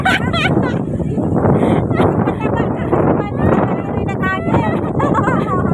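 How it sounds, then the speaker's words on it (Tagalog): Strong wind buffets the microphone in a constant roar while people talk over it, outdoors at the Tian Tan Big Buddha in Hong Kong. "Ang lakas ng hangin!"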